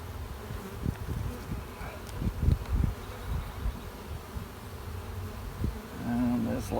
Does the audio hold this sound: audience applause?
no